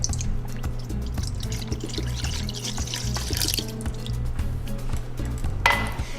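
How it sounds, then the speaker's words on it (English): Almond milk, about a cup, poured into a bowl while preparing vegan chocolate cupcake batter; a steady close trickling and dripping of liquid runs throughout, with a brighter splash near the end. "So I have about a cup of almond milk. I'm gonna go ahead and pour this into my bowl."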